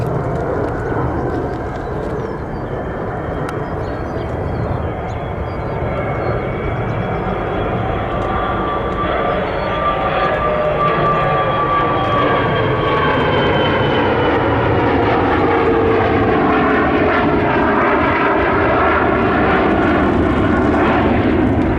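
A British Airways airliner flies near Nashville airport, its jet engine roar steady and loud for over twenty seconds, with a slowly shifting pitch as the aircraft passes and turns, no talk heard.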